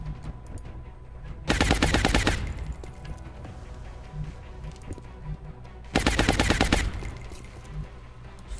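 Two loud bursts of rapid automatic gunfire from soldiers in XCOM Long War, each lasting about a second and separated by a stretch of quieter game background.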